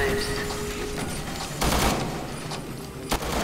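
Gunfire in the video game Resident Evil 6, a few sharp bursts over a steady game background, including a heavy blast near the middle and a shorter crack near the end.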